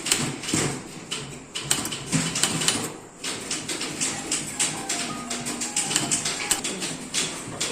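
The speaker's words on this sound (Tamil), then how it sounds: "இப்போ மயிலாப்பூர் டைப் பண்ண போறேன்." A typewriter clatters with a steady run of sharp key strikes during a typing exercise, close and clear, with a few short pauses between bursts.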